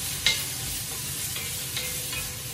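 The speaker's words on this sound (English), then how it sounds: "I'm gonna start off in my skillet with some andouille sausage." Andouille sausage sizzling in a skillet while being stirred, a steady close hiss broken by a few light scrapes and taps of the utensil, with no one speaking.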